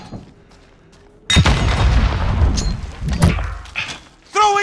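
A grenade blast and bursts of gunfire in Call of Duty Modern Warfare, a sudden loud crash followed by rolling shots and thuds, with another sharp burst near the end.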